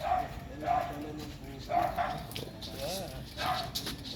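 A husky gives several short, high barks and yips, spaced out over a few seconds, with voices and background noise underneath.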